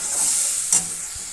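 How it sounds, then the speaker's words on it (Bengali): Spice masala stir-fried in a pan, a continuous close sizzle with a brief louder scrape of the spatula partway through. "চলো, মশলাটা ভালো করে কষানো যাক"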